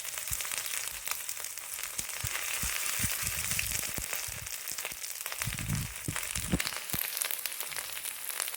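Grated ginger goes into hot oil with black and white cumin, setting off a steady, dense sizzle with scattered crackles and pops that runs unbroken throughout, close and fairly loud.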